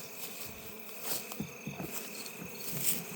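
Honey bees from a captured swarm buzz steadily around a wooden swarm box during transfer to a Layens horizontal hive, a close, continuous insect drone with small rustling bumps and no talking.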